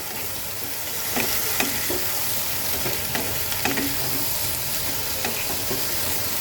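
Shrimp frying in a pan with turmeric and coriander powder, a steady moderate sizzle with scattered spoon scrapes and taps as it is stirred.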